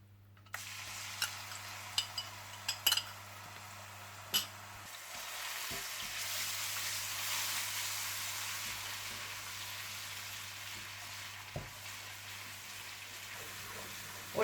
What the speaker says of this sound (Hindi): इसमें आप अदरक लहसुन डालकर थोड़ा सा भून लें